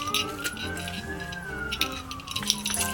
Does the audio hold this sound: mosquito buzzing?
no